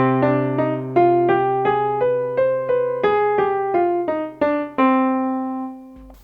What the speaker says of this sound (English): But if we do what we call a minor harmonic scale, then we get what is also called Arabic scale,